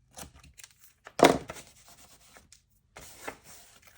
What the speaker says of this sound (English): Just going to cut it here.